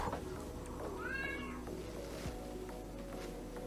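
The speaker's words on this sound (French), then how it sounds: "Il y a notre chat qui s'exprime." A domestic cat gives a single rising meow, fairly faint and brief, over a steady low indoor hum with no talking.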